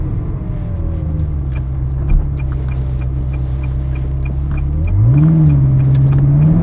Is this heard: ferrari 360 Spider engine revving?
yes